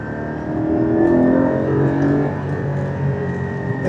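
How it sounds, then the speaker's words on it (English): A Porsche GT4's engine revs hard on a road trip, a single rising, loud, close mechanical growl that swells then settles into a sustained drone. "That's the highest revs I've had on this trip so far."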